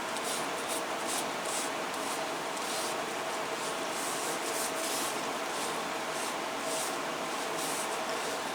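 Soft, steady rubbing of a second coat of finish being worked onto a leather 1911 Avenger holster, a continuous quiet hiss-like scrubbing with faint rhythmic strokes, heard alone and fairly faint throughout.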